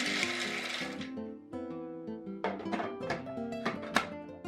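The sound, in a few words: food processor blending roasted peanuts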